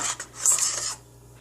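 A spoon scrapes and clinks around a container of baby formula thickened with arrowroot flour into a gel, giving several short, close stirring strokes with a brief pause before a final scrape.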